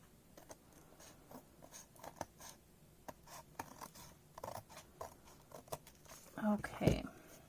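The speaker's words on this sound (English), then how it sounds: "I'm just taking my time to cut around the edge nicely." Scissors snipping carefully around the edges of paper strips for a journal collage, a series of soft, quiet clips scattered irregularly, ending with a louder cut.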